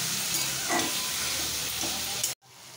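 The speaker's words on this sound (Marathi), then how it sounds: "परतून घ्यायची, चांगली हलवून घ्यायची" Fenugreek leaves and toor dal are stirred and sautéed in a pan, giving a close, steady sizzle with a couple of spatula scrapes before the sound cuts off abruptly near the end.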